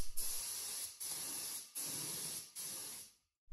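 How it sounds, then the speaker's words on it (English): Four bursts of hissing spray of white oil-based paint onto a wooden dresser, each lasting under a second, separated by short gaps, then silence. "I'll just spray it with a white oil-based paint."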